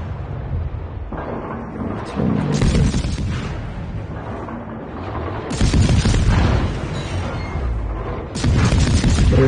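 Naval gunfire on the Cleveland ship in a video game, heavy booming cannon salvos that swell in three loud waves over a rumbling background.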